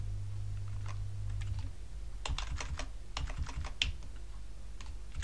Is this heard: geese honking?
no